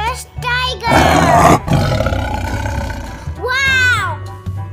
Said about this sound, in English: Dangerous tiger!